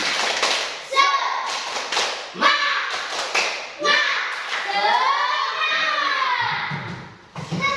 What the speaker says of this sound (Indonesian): kita tepuk semangat lagi ya, kita semua berdiri